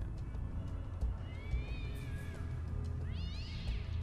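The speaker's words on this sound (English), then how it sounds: "What's with the cat?" A cat in the detective adventure game Tesla Effect: A Tex Murphy Adventure lets out two drawn-out meows, the second higher and wavering, over a low steady background rumble.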